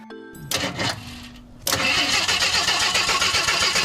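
The engine of a long-stored 1975 AMC Gremlin with weak spark cranks briefly, pauses, then churns steadily in a rapid, loud starter rhythm close up.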